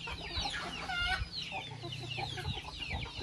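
Chickens on a rural smallholding cluck and squawk in a nervous, scattered chorus, with short broken calls overlapping close by against faint outdoor background noise, and no one speaking.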